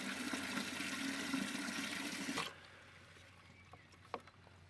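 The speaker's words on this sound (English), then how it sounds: "I'm just going to fill up a watering can" Water gushing steadily from a hose or tap into a garden watering can, a loud broadband rush for about two and a half seconds that cuts off abruptly, leaving quiet outdoor ambience with a couple of faint knocks.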